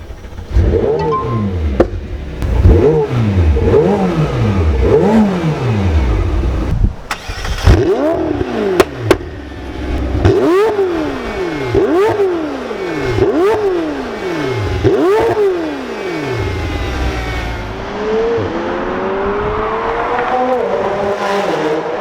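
McLaren 720S with an IPE exhaust revved repeatedly while stationary, a series of sharp rising-and-falling engine blips with pops between, loud and close, ending in a longer climbing rev.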